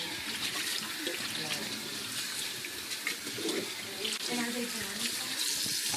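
Tap water runs steadily from a kitchen faucet as a raw Thanksgiving turkey's cavity is rinsed out, a continuous splashing flow with faint background sounds.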